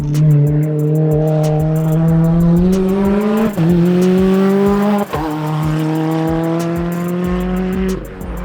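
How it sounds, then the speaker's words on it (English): A drift car sweeps past loudly with rising engine revs in stepped gear pulls, a screaming high note climbing through each shift, with tire squeal and close, intense presence throughout. "In fact, the car's about to come right now."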